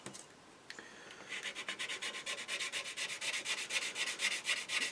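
A sanding stick is worked over the plastic of an Eduard Spitfire model kit, starting as faint rubbing and settling into a close, steady run of quick rasping back-and-forth strokes.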